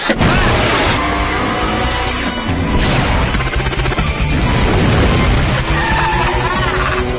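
Rockets fire in an animated race: a dense, loud roaring blast with crashing booms that fills the whole stretch, mixed with music and effects.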